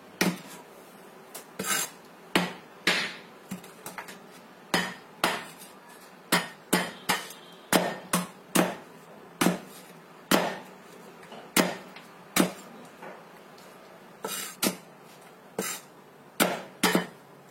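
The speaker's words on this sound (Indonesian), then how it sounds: "Pokoknya kita hancurkan aja gulanya itu. Kecil-kecil seperti ini." Sugar being pounded into small pieces for a cheap homemade snack, a series of sharp hard knocks, close and irregular, sometimes in quick pairs with short pauses between.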